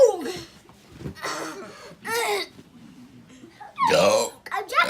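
Several loud burps from a family burping contest, with children laughing and chattering between them, including one long drawn-out belch near the end.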